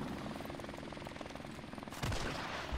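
Helicopter rotors thump rapidly in a first-person shooter video game, a steady chopping pulse that swells louder partway through as a burst of gunfire cuts in.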